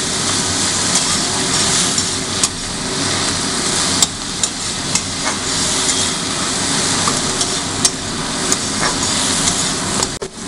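Onion and diced tomato fry and get stirred in a pan for making Punjabi dal, giving a steady broad sizzle with occasional sharp clicks of the spoon against the pan, close and continuous with no talking.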